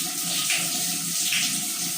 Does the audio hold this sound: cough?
no